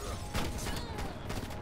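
Shotgun blasts in a first-person shooter match, a few loud booming shots in quick succession with mechanical clatter between them, no talking.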